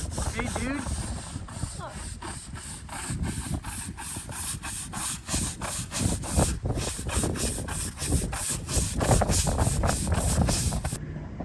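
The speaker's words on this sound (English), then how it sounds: "Ryder up here scrubbing away with this anti-mildew stuff" Brush scrubbing across the roof of a GMC bus being readied for paint, working anti-mildew cleaner into blackened mildew; steady rhythmic rubbing strokes, close and fairly loud throughout.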